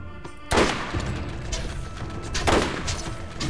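Gunfire in the shooter game Borderlands, with two sharp loud shots about two seconds apart over a dense, noisy game soundscape.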